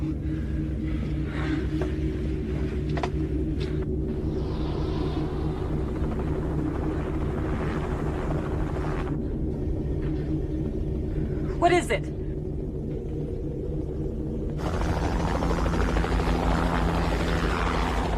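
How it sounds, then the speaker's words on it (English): A steady low rotor-like drone of a helicopter runs throughout, with voices speaking briefly over it and a louder swell near the end. "Helicopter."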